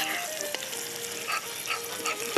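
Sauce reducing in a pan, a close, steady sizzle and bubbling hiss with a few soft clicks and scrapes, no talking.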